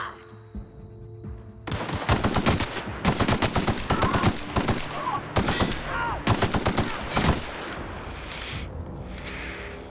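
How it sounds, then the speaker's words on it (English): Gunfire in the sci-fi video game The Outer Worlds: loud, rapid bursts of automatic fire in several clusters, with sharp cracks and short gaps between volleys, fading into background game ambience at the end. "shoot them in the chest and then all their limbs explode off"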